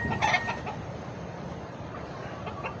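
A brooding hen gives low, soft clucks close by, steady and muffled, with no talking.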